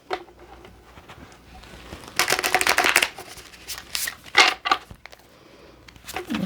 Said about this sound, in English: I am shuffling for the Virgo Collective.